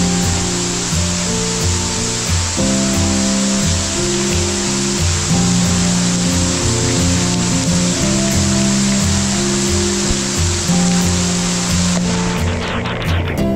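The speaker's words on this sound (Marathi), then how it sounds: "त्यात मुसळधार पाऊस आणि टनेलच्या बाजूने वेगाने कोसळणारे पावसाचे पाणी" Heavy monsoon rain lashes down while rainwater gushes beside a railway tunnel near Dudhsagar Falls, forming a loud, unbroken roar with a steady droning hum beneath it throughout.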